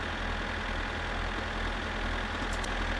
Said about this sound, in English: we're just gonna park the tractor out the front here